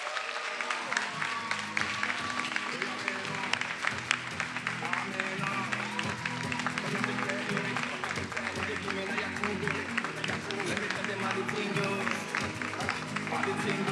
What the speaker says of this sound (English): Give a round of applause for Professor Nicole McClam.